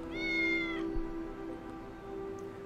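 A cat meows once, bright and clear, in the video game Tales of the Neon Sea. The meow is followed by a steady hum from the game's background music.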